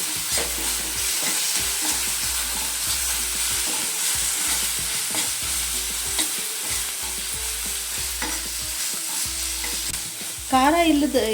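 Chilli chicken fries in a pan with a loud continuous sizzle, with spoon scrapes and stirring throughout and a brief higher squeak near the end.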